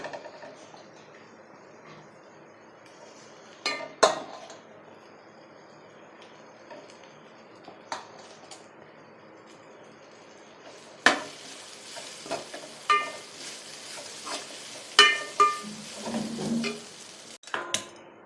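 Cooked rice being added to and stirred into a fried vangi bath mixture in a pan. A quiet low sizzle runs under intermittent spoon scrapes and clinks, and a brighter, louder frying hiss takes over in the second half.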